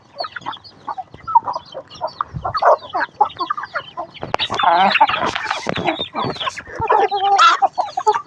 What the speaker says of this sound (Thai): นี่คือไก่หนุ่มสาวรุ่นๆนะครับนี่หนุ่มสาวรุ่นๆ